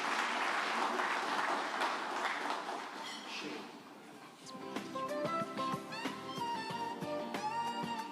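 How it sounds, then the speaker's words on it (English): Audience applause rings out at a post-budget breakfast meeting, steady clapping filling the room for several seconds before fading and giving way to scattered sounds and a speaker stepping up. "A round of applause for Tinashe as he comes through."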